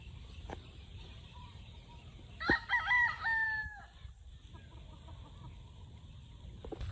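A rooster crows once at moderate distance, with faint clucks and low farmyard background before and after.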